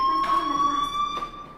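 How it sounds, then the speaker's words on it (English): A fire alarm rings in the Life is Strange video game, a steady high electronic tone with harmonic overtones sounding loudly throughout, with brief bursts of background noise. "do you hear that fire alarm? That means you should be outside."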